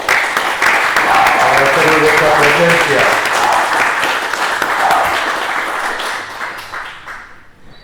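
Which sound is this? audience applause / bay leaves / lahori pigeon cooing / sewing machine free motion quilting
audience applause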